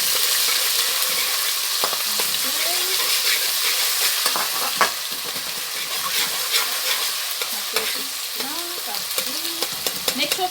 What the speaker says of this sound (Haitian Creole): Make sure que l'épice là bien frit